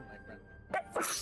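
A sneeze bursts out at close range amid a casual tabletop roleplaying game session, a short sharp intake followed by a loud explosive burst, with brief talk just before it.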